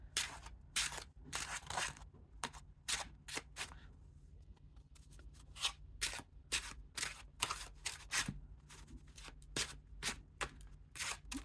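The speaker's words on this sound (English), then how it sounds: "I really like the way they shuffle." Tarot cards being shuffled in quick, crisp riffling bursts, some rapid and clustered, others spaced apart, quiet and close over a low background hum.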